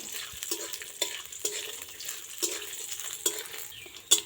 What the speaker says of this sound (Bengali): কিশমিশ আছে, কাজু আছে আর আমন্ড আছে, সেটাও কিন্তু ভালোভাবে ভাজবো।